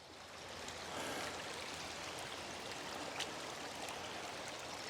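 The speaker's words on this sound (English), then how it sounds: "look at all this water coming down" Floodwater runs down a farm road in a steady, broadband rushing wash, close and continuous like a fast stream, with no voices over it.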